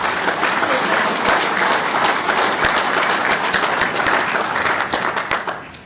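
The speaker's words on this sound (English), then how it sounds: "you've got the applause" Loud, dense applause from a large convention audience honoring its officers at a general session, continuous clapping that holds steady for several seconds before thinning slightly at the end.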